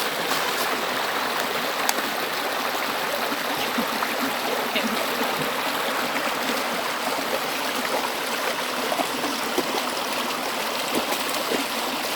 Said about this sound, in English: You hear very, very much rushing water.